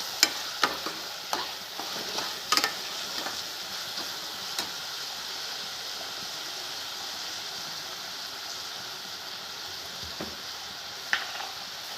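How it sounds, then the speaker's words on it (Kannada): Tomato and rava fry together in a pan for upma, giving a soft, steady sizzle close by, with occasional clicks and scrapes from stirring. "ಇದು ಕೂಡ ಹಸಿ ವಾಸನೆ ಹೋಗುವವರೆಗೂ ಹುರಿಯಬೇಕು"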